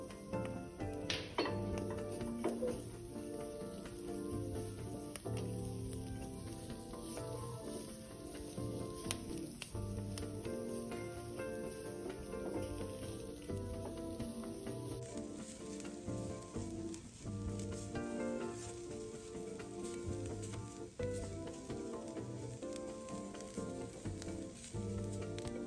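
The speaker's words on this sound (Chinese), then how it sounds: "接下来炒香菜脯和蒜头，炒出香味。" Preserved radish and garlic are stir-fried in a wok, first dry and then with oil, giving a steady close sizzle with frequent clinks and scrapes of the spatula against the pan.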